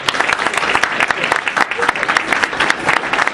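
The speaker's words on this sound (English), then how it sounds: "let's have a round of applause for that." Audience at an educators' TeachMeet event applauding a guest, brisk dense clapping with distinct individual claps standing out, steady and close for the whole stretch.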